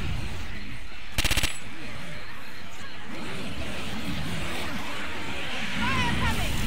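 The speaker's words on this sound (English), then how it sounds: "Machine gun." A short, rapid burst of machine gun fire in the video game Left 4 Dead rattles out over a constant rumbling game background, with voices chattering throughout.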